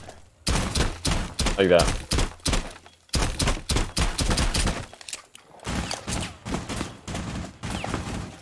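Gunfire in the video game Rainbow Six: Siege: bursts of shots and thuds come through the game audio, mixed with near-constant player talk.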